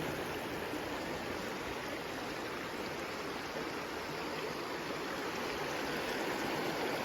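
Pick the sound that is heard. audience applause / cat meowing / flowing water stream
flowing water stream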